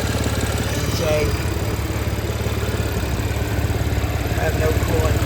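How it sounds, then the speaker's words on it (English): A 2014 Audi S5 with an APR stage two exhaust, an exhaust leak and an APR cold air intake idles in a steady, low, even rumble, close and constant throughout. "There's the engine."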